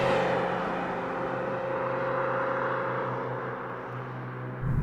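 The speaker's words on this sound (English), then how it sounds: "the exhaust note on the G37 sounds better than the 370Z" An Infiniti G37S engine idles and revs with a steady, deep exhaust drone that holds loud and close for several seconds before cutting off sharply at the end.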